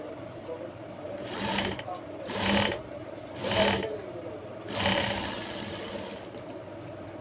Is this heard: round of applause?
no